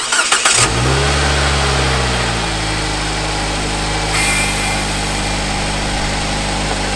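A car engine cranks briefly and catches, then settles into a steady, loud idle that continues without talk.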